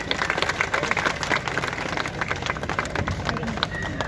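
Loud, dense applause from a crowd at a Civil Defence blackout drill event in Lucknow, a steady wash of clapping that holds for several seconds, with voices mixed in.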